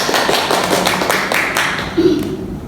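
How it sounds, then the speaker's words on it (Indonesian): Children in an elementary classroom clap their hands together in a burst of quick, uneven claps, with young voices and teacher talk mixed in close by. "tepuk tangan dulu"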